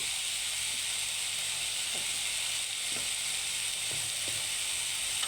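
Soybean masala sautéing in a pan with chili powder, turmeric and pepper powder gives a steady, close sizzle and hiss, with a few soft stirring scrapes scattered through it.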